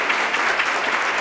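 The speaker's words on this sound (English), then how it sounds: "Can we give our panelists a round of applause?" Steady, dense applause from an audience for a panel discussion fills the whole stretch, with no pauses or voices standing out.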